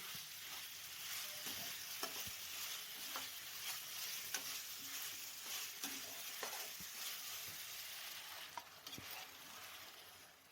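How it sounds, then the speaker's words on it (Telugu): A dish simmers in tomato juice with coriander and mint, giving a steady low sizzle and bubbling, punctuated by scattered soft taps and scrapes of stirring, faint and close, with no one talking. "ఆ టమాటా జ్యూస్లోనే ఉడకాలి"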